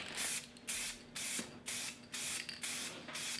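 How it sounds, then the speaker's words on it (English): Blue spray paint from a rattle can goes onto a Honda Grom motorcycle subcage in six short, loud hissing bursts. Each burst is separated by a brief pause, with a faint steady hum in the background. "All right, first coat of blue is going on."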